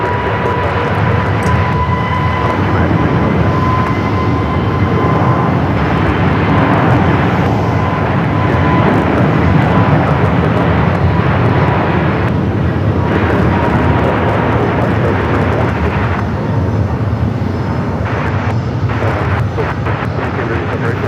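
A Southwest airliner lines up on runway 25 right at Phoenix Sky Harbor, its jet engines giving a continuous loud roar and whine that holds steady throughout, with radio talk mixed in.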